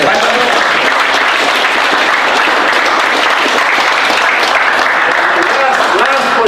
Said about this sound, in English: we'll give him a clap anyway